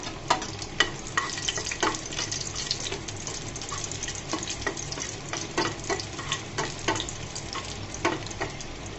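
Torn dried red chillies fry in soybean oil in a pan with a continuous crackling sizzle, punctuated by frequent spoon scrapes and taps at an uneven pace, close by.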